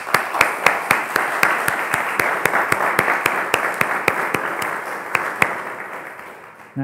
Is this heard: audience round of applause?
yes